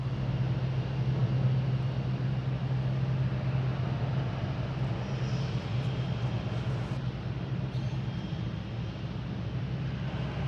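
Airplane at Boston Logan International Airport, a steady broadband jet roar with a low engine drone holding for about ten seconds, moderately loud and continuous, with no talk.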